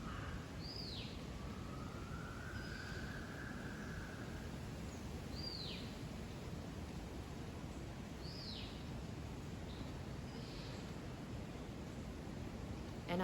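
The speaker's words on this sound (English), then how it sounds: "maybe you can hear some of the voices as well, the voices of the birds" Birds call outdoors in nature, a few brief chirps and one longer whistled note spaced apart over a steady hiss of background noise, faint and somewhat distant.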